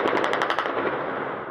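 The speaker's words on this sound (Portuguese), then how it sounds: "Os tiros traçantes cortavam o céu." Rapid automatic gunfire from a police shootout with tracer rounds, a quick burst of several closely spaced shots followed by a fading echoing tail, fairly distant and alone.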